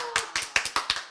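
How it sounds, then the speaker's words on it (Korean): A few people clap in short, uneven bursts at a cancer patients' gathering, with about five sharp, close hand-clap clusters over a second and no talking. "박수 치는 거 보세요"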